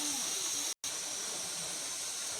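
Steady loud hissing steam rises from a pot of beef boiling on the stove, continuous except for one brief cut-out near the start.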